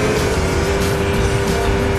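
Cars rush past at full volume in the Saints Row 2 video game, a loud, steady engine roar with a sustained tonal drone and no pauses.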